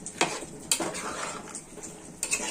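Mutton pieces being stirred with yogurt in a pot, heard as a few sharp spoon knocks against the metal over a soft, continuous wet scraping and faint simmer, close and alone.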